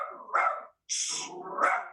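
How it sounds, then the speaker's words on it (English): A pet dog at a windowsill barking at passers-by gives a few short, sharp yips and barks in quick succession, close and moderately loud. "Sorry, that was my dog."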